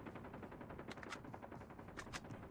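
Rapid automatic AK-47 fire in the mobile shooter game Call of Duty Mobile, with dense bursts of shots crackling in a steady rhythm, some sharper reports standing out, all fairly quiet.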